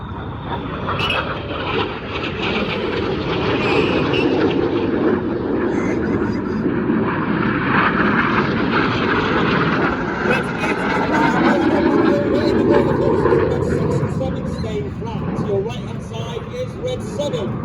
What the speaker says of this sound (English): Each pair will now dive down to approximately only 100 feet above the airfield. They'll have a closing speed of over 800 miles per hour.